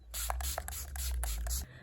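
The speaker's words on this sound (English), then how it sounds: "I'm gonna again use the same Gerald Cosmetics Slay All Day spray." Gerald Cosmetics Slay All Day setting spray hisses out in several quick close bursts, a rapid pumped series of sprays from a nearby bottle over a low background hum.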